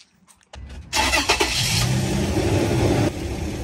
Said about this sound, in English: let me turn the engine on.